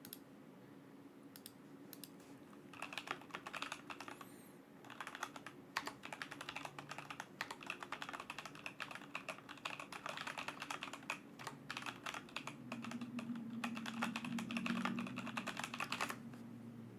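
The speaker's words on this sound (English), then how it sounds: "A lot of typing." Rapid, continuous typing on a computer keyboard, close and crisp clicking keystrokes in irregular bursts for the whole stretch, with no talking over it.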